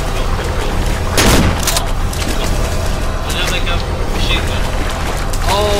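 A shotgun fires in the horror video game Cry of Fear, a loud booming blast near the start amid a dense, noisy game soundscape, with a voice talking over it.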